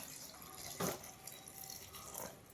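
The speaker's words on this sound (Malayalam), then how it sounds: "ഞാൻ അവിടെ തണുത്ത വെള്ളം ഒഴിക്കണേ" Cold water is poured over chopped banana stem for juice: a brief, faint splash and gush of liquid in a quiet kitchen, followed by light trickling.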